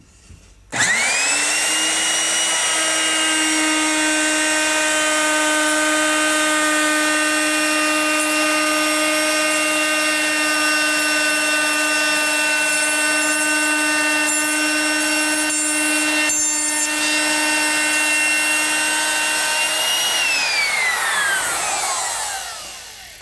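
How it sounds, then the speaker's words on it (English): A router trimming the edge of a clamped wooden cabinet, a loud, steady high-pitched motor whine that spins up quickly, holds for about twenty seconds while cutting, then winds down, with no talk over it. "we're going to route this off"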